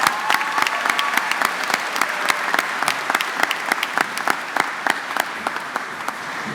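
A graduation ceremony audience claps loudly and steadily, with sharp individual hand claps standing out against a thick, continuous roar of applause from a large crowd.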